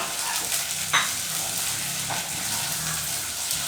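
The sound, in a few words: okra sautéing with onions in oil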